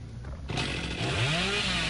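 Chainsaw revving hard in Dead by Daylight gameplay, a loud, steady buzzing engine roar that kicks in midway and climbs in pitch as it winds up.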